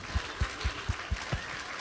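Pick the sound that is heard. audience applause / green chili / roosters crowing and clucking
audience applause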